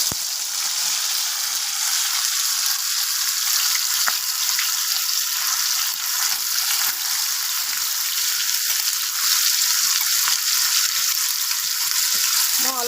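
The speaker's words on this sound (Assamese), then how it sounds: "মই এতিয়া মাংসখিনি দি লৈ ভালকৈ ফ্ৰাই কৰি ল'ম।" Marinated chicken frying in mustard oil in a wok for palak chicken curry makes a loud, steady, hissing sizzle close by that holds throughout, unbroken by speech.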